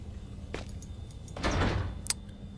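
A welded-shut door in the horror game Penumbra: Overture rattles and scrapes as someone tries to force it open, a short broadband grinding surge followed by a sharp metallic clack, with no talk.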